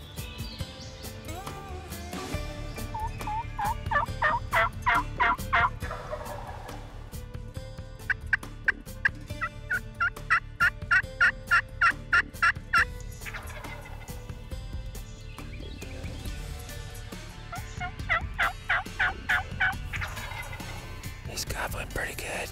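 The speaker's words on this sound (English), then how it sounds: "We hear a bird gobbling." A wild turkey gobbles repeatedly in bursts in western Kentucky, rapid rattling calls at moderate distance, with quieter bird calls and faint ambient noise between them.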